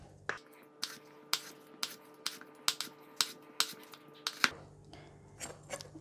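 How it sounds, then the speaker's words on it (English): A knife slices a cucumber into thin slices on a board, a regular run of about a dozen sharp, close knocks against the wood, loud and alone without talk. "I'm going to cut it into thin slices like this."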